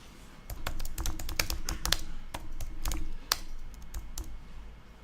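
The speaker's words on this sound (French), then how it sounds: "si on tape des mots" Rapid typing on a computer keyboard, a dense stream of close, crisp key clicks in uneven bursts over a quiet room background.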